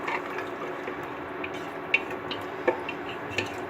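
Rice and water being stirred in a pressure cooker for plain polao, giving a steady wet swishing with three sharp spoon clinks against the metal pot, fairly close.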